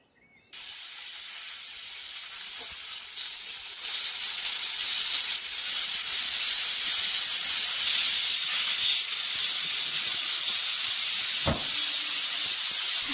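A pressure cooker on the stove, lid on, cooking curry, gives off a loud, steady, breathy steam hiss that starts abruptly and swells slightly, with one brief knock near the end.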